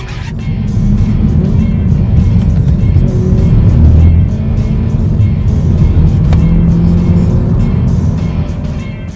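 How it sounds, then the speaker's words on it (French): Hyundai i30 N hot hatch driven in N mode, its engine droning steadily with a more expressive exhaust note, loud and close throughout with a gentle swell in the middle and no talking. "on a une ambiance sonore qui évolue avec notamment l'échappement qui se montre beaucoup plus expressif"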